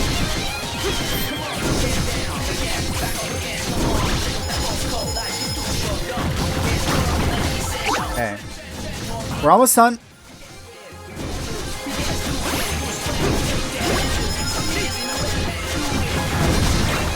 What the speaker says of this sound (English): Just crush the pumpkins.